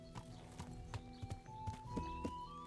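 Horse hooves clip-clop at a slow walk in the medieval game Kingdom Come: Deliverance, a string of close, distinct hoofbeats over a steady low hum and a faint tone.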